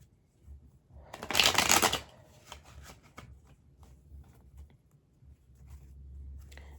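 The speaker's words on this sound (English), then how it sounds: "I'm counting my shuffles" Tarot cards riffle in a loud, dense burst of shuffling near the start, then fall to quieter scattered flicks and handling taps for the rest.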